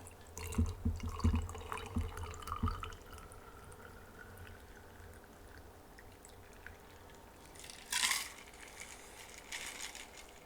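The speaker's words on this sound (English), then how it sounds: "we'll just pour this into my glass" Whisky, a witch's brew with walnut smoke, pours into a glass in a short burst of liquid splashing near the end, after earlier soft handling knocks.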